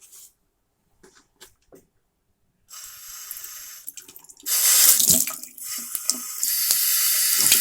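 Tap water runs into a sink from a household faucet to wet something before face washing, starting after a few faint knocks, then a steady splashing stream that grows louder and fuller near the end.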